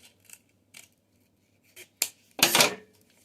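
Scissors cutting through folded paper for pantry labels: a few small snips and rustles, then a longer, louder close slicing sweep near the end.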